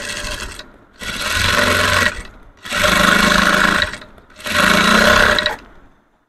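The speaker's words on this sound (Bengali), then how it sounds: "এখন আবার এটা তো চাপ সেলাই দিব ডাবল করে।" A sewing machine runs three loud, close bursts of steady whirring stitching, each lasting about a second and a half with short pauses between, double-stitching a three-piece outfit.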